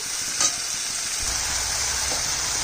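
Vegetables frying in a pan with spices, dried red chillies and roasted cumin for a vegetarian curry, giving a continuous bright sizzle with a faint stir near the start.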